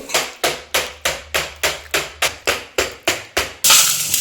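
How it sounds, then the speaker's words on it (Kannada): A cake tin is knocked on a surface to release air bubbles from the batter inside: about ten evenly spaced, crisp taps in a quick steady rhythm, close and clear, followed by a short burst of hiss. "ಚೆನ್ನಾಗಿ ಅದನ್ನ ಟ್ಯಾಪ್ ಟ್ಯಾಪ್ ಬಡಿಬೇಕು ಯಾಕಂದ್ರೆ ಅದ್ರೊಳಗೆ ಏನು ಗುಳ್ಳಿ ಎಲ್ಲ ಉಳಿಬಾರ್ದು"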